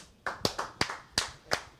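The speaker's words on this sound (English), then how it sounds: "Y'all supposed to clap at least the second time I did." A handful of people clapping after a rap, a short, loose run of separate sharp claps about every third of a second, close and fairly quiet with no talk.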